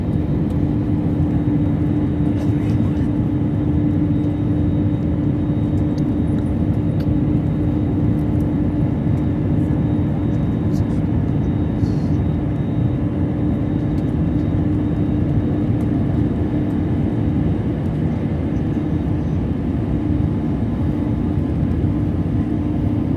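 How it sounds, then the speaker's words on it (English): Steady, loud engine drone and whir inside a Sri Lankan airliner cabin on approach to land at Colombo, holding constant throughout with no voices. "Come on, go for a westerly approach and land."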